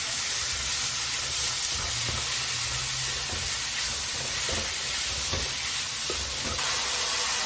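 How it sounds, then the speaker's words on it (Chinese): Marinated shredded meat stir-fried in a hot pan, with a loud, continuous sizzle and hiss and occasional scrapes and knocks as it is tossed, and no talking. "把刚刚腌好的这个肉丝呢也下去炒。"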